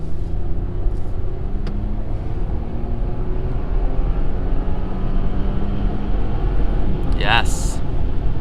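Steady engine and road rumble from a 2021 Audi Q8 accelerating on the highway in dynamic mode, heard from inside the cabin as a continuous drone, with a brief rising whine near the end.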